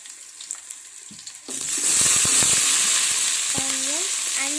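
Onion and curry leaves drop into a hot pan and break into a loud, steady sizzle that fills the kitchen, with stirring scrapes and clatter over the frying.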